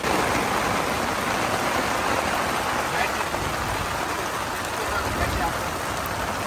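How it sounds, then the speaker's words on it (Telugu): Heavy rain falling on a hilltop campsite, a steady dense roar of downpour close by that continues unbroken throughout. "ఇది చాలా భయంకరమైన వర్షం"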